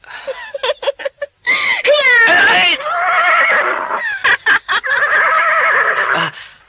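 A horse neighs loudly and close by in several whinnying bursts, with rising and falling tremulous calls and short choppy snorts between them.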